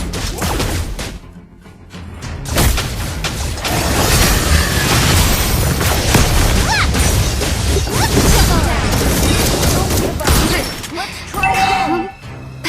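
A turret being destroyed in the video game Mobile Legends, a long chaotic stretch of loud crashing impacts, blasts and clattering battle effects, ending in a quieter moment with a brief game tone.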